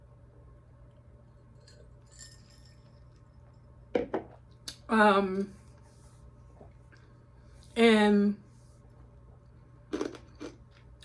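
Ice being crunched between the teeth in a few short bursts, close and fairly loud, separated by quiet pauses, with a brief spoken word in between.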